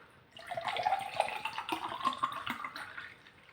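White tea drink with apricot and tangerine flavour, BUVETTE healthy tea, poured into a glass: a steady close-up trickle and splash lasting about three seconds, fairly quiet, with no talking.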